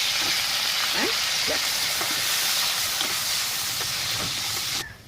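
Capsicum and chili are stir-fried in a hot pan, giving a loud, dense, constant sizzle with intermittent scrapes of stirring, and the hiss drops away abruptly at the end.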